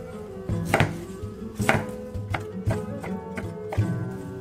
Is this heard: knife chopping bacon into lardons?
yes